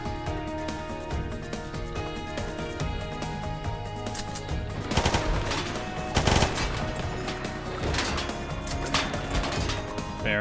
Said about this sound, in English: Guns are shredding.